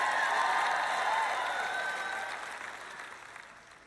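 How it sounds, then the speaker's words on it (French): Applause from a church audience during a French-language sermon, a broad wash of clapping that starts loud and steadily fades away over several seconds, with no voices on top. "Maintenant, vous applaudissez quand je dis que Jésus revient."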